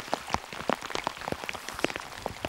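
Rain patters in scattered, irregular drops on a surface, soft and close, with no voices.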